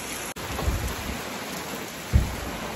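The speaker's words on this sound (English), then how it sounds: "Oh, glorious rain. Rain, rain, rain, rain, rain. Let it rain." Steady rain falls outdoors in a dense, even hiss, with a low rumble and a brief thump near the end, heard alone without voices.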